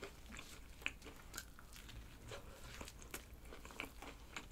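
Someone bites and chews a crispy McDonald's chicken burger with a hard, very crunchy outer coating, up close and quiet: a series of sharp crunches and munching with no talking.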